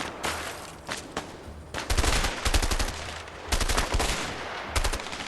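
Gunfire in the video game A Way Out while shooting enemies: rapid automatic bursts of shots in several clusters, loud and close, separated by short pauses, with no talk.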